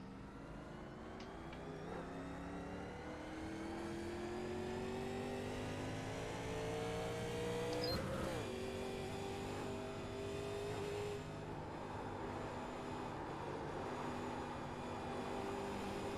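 Stock car engines from the 2008 Legacy Daytona in a NASCAR racing game, a pack of cars droning together with rising and falling revs and one sharp passing burst midway, steady and loud without talk.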